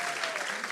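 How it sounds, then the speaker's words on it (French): Thin, steady clapping from an audience, a brief patch of scattered hands with no voices over it. "c'est les applaudissements les moins glorieux que j'ai eus de ma vie"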